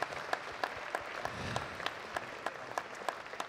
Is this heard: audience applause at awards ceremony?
yes